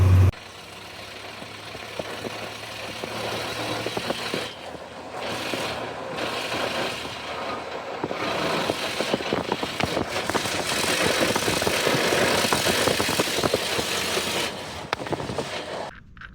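Hino Ranger FB4JG truck diesel engine running steadily for about sixteen seconds, a continuous mid-pitched rumble that swells slightly louder toward the end, close by with no talking.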